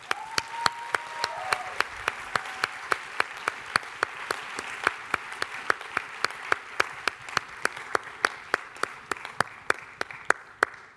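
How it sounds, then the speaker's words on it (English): Audience clapping at a youth summit's global health plenary session as ambassadors come onstage, a sustained spread of applause heard under loud, evenly spaced rhythmic beats and a brief tone. "Give them a round of applause."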